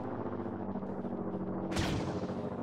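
A single loud gunshot or blast in Arma 3 with a Star Wars mod, cracking sharply over a continuous low rumble of battle ambience and then fading away.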